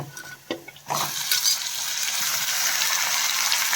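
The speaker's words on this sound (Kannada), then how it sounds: "ಚಿಕನ್ ಸ್ವಲ್ಪ ಚೆನ್ನಾಗಿ ಫ್ರೈ ಆಗಬೇಕು" Washed chicken for chicken chops drops into a hot pan and breaks into a loud, steady sizzle after a brief quieter moment, the frying hiss continuing without a pause.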